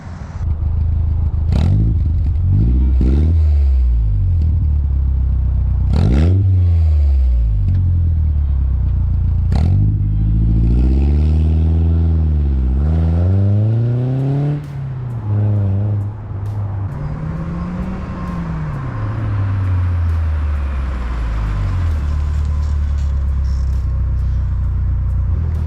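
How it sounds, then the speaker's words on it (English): A 1999-era BMW Z3 with a 1.9L four-cylinder and Magnaflow exhaust with burnt tips drives past shifts: loud, close engine drone that climbs through several revving pulls, drops between gears, then settles into steady cruising rumble. "let's go ahead and take it for a little drive and let you guys hear the exhaust"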